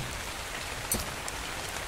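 A constant wash of rain in ARK: Survival Evolved, drops pattering on surfaces in a close, uniform hiss, with one slightly louder splash midway.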